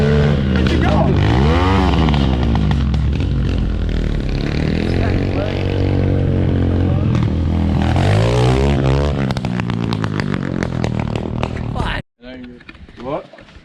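A dirt bike engine revs with rising and falling pitch sweeps, loud and close for about twelve seconds before cutting off abruptly, with people talking over it.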